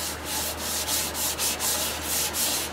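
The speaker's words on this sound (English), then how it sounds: "Now that already glowing like that, just from the steel wool" Fine steel wool rubs a Machiche wood platter already sanded to 400 grit, in quick rhythmic back-and-forth strokes, a close, dry scratchy hiss repeating about three times a second.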